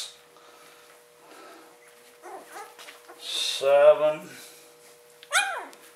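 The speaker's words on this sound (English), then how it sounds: "That was this one barking." A puppy gives two sharp, high-pitched yips at close range, the second shorter than the first, while a person calmly counts aloud in between.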